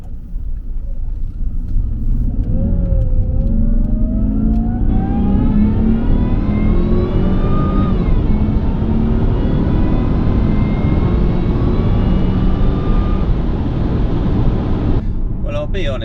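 A Jaguar S-Type R with a machined supercharger snout accelerates on a test drive, its engine rumbling loud inside the cabin as the revs climb steadily in a long rising pull before easing off near the end.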